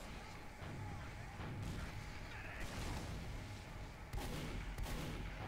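Rockets and gunfire in a Team Fortress 2 competitive match, with repeated explosive thuds and shots at close range, against mechanical clatter and some background voices.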